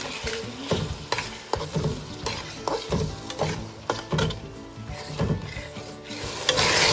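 Ginger garlic paste and green chillies sizzle in a pan for chicken biryani, with a spatula scraping and stirring in steady, repeated strokes close by; no talking.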